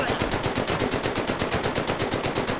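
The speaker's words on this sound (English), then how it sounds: "Because it kind of sounds exactly the same as the MG42." Rapid MG42-like machine gun fire from the VR video game Medal of Honor: Above and Beyond, a steady, fast stream of shots at even rhythm, loud and continuous with no pauses.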